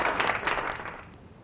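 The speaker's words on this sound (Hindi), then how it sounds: "तालियां हो जाएंगी।" Studio audience clapping on a Ramadan quiz show after a correct answer, a short burst of applause that fades away within about a second.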